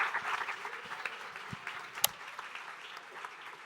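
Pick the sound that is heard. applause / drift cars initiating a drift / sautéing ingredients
applause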